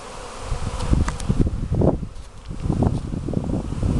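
Honeybees buzz busily around the hives of a spring apiary, a close, wavering swarm drone rising and falling with soft wind and rustling behind it.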